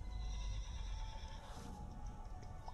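A horse from the video game Horse Riding Tales rears and neighs, giving a clear whinny over soft hoof clip-clops and steady game ambience, moderately loud.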